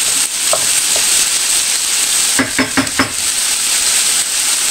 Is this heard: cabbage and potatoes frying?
yes